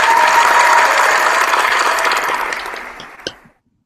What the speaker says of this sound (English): let's give a big applause for everybody who does customer service on the phones